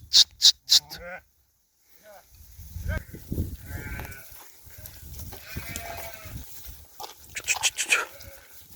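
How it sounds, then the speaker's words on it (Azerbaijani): A flock of sheep, part of a 280-head herd for sale, bleats in loud, close clusters at the start and end, with low muffled voices and shuffling in between. "qoyun kom da satılır"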